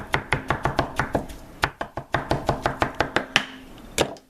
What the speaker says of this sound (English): We're just going to chop it up really finely